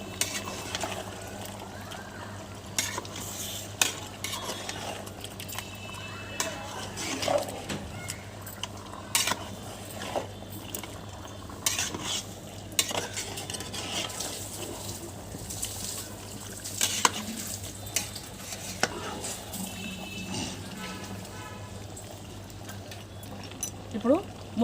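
Chicken and chili powder being stirred in a pan, with intermittent scraping and clinking of a spoon against the pot, fairly close, with a low background hum and no speech.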